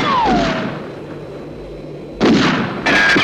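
Gunfire from a Thunderbird 6 puppet film action scene: a sharp shot with a descending whine, a quiet pause, then two loud close blasts in quick succession.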